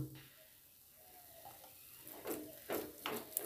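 Ghee being stirred into a sweet mixture in a pan, with a soft sizzle and a few scraping strokes building toward the end, close and fairly quiet.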